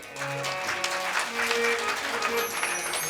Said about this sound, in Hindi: अपने लिए ताली बजाओ एक बार